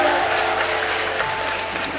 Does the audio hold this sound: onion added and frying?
no